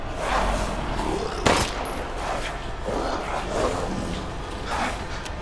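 Gunfire from the Resident Evil Village demo sounds as several scattered shots with one sharp crack standing out, set against a low, murky game ambience.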